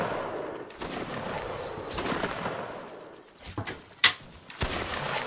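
Musket volleys crackle through a Napoleonic Wars battle in Mount and Blade Warband, a dense wash of distant and mid-range shots with a few sharper close reports near the end.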